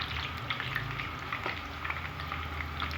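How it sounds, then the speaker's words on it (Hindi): Small pakoras frying in hot oil in a home kitchen, a steady close sizzling and bubbling hiss that continues without pause. "ये देखें ऑयल मैंने पहले ही रखा हुआ है ऊपर गर्म होने के लिए। तो जी छोटे छोटे से मैं पकौड़े डालूँगी"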